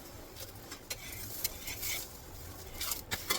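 Methi thepla paratha roasting with oil on a hot pan, giving a soft, steady sizzle and patter with a few scraping clinks of a spatula, close and fairly quiet.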